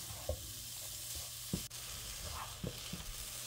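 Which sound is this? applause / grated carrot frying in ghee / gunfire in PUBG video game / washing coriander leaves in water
grated carrot frying in ghee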